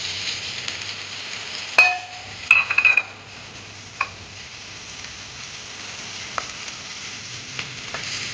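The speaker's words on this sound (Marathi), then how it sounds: "बघा थोडंसं तेल टाकते आणि हा कांदा आणि लसूण पण कापून मी घेतलंय." Onion and garlic frying in oil in a pan for chicken soup, giving a steady close sizzle with a few sharp utensil clinks and pan knocks early on.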